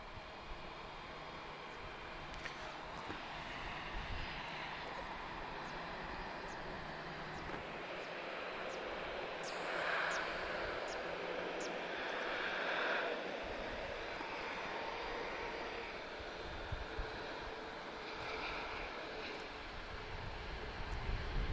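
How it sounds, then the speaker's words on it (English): A TAP Air Portugal jet airliner's CF6 engines drone from a distance at Lisbon Airport, a faint, continuous broadband roar with a thin whine that swells slightly and fades. "very distinctive sound of a CF6 engine"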